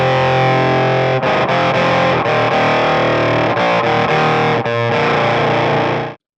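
Electric guitar with an organ-like effect playing a loud, distorted, sustained riff with rhythmic chord stabs and brief breaks, then cutting off cleanly at the end.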